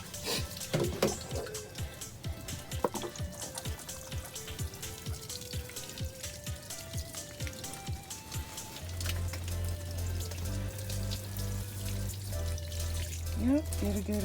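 Water sprays over plants indoors as a simulated rain shower, a steady broadband hiss running throughout, with a tonal melody early on and a low hum joining partway through.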